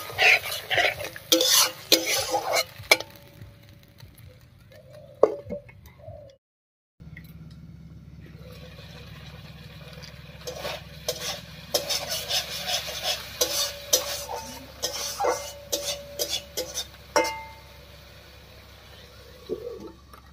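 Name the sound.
spice paste with tomato being fried and stirred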